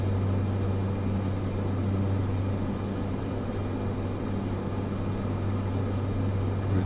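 A propeller aircraft engine under throttle in Microsoft Flight Simulator 2024, a bush plane droning steadily with a strong low hum, loud and even throughout with no talk.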